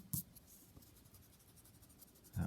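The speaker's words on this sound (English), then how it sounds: "take your eraser and get rid of that original pencil line." A pencil eraser rubbing out a line on a paper map drawing, quick repeated scrubbing strokes, faint and close, with a louder touch at the start and end.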